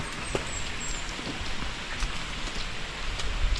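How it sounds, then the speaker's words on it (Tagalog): Steady rain pours down on an outdoor surface, a continuous dense hiss with scattered droplet taps, moderately loud and close with no voices. "Ulan."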